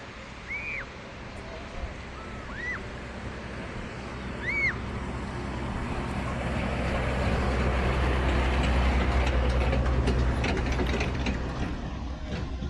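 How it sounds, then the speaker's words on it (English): Mechanical rattling and clanking of a small land train rolling past along a long Yorkshire seaside promenade, growing louder toward the middle, with bird chirps and a voice early on. "And here comes the train."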